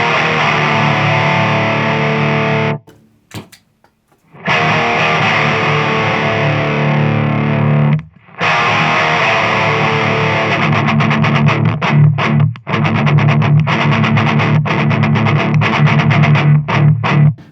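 Distorted electric guitar through an Orange OR15 amp with a boosted front end and raised mids plays loud, crunchy sustained chords, broken by brief silent pauses before a run of tight, rhythmic chugging strums.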